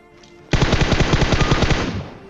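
Sustained automatic fire from an M4 rifle in the PUBG video game on the Erangel map, a rapid burst of close, loud shots in steady rhythm lasting nearly two seconds after a quiet start.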